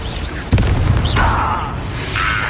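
A Confringo blasting spell detonates in Hogwarts Legacy as a single loud, close boom, followed by a sustained rumble and crackle of debris and flames.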